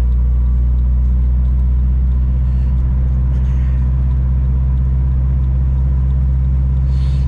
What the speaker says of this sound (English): I'm pretty much like forced the car into a high idle so I could cruise.